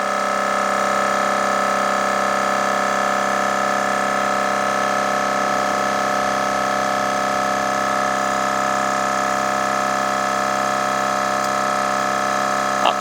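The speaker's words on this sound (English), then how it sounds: "Compressor is already kicked on." A cordless DeWalt 60V air compressor runs continuously, building pressure in a loud, steady motor drone with a constant hum and no pauses throughout.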